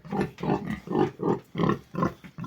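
A young pig on a farm grunts in a steady, rhythmic series of about seven loud, close grunts, each roughly a third of a second long with short gaps between them.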